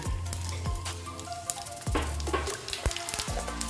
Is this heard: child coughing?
no